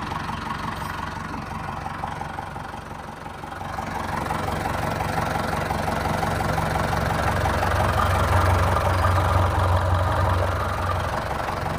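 A 2012 Mitsubishi Pajero Sport with a 4D56 DOHC diesel engine idles close by, a steady low rumble with faint knocking clatter that swells slightly midway and holds on without talk.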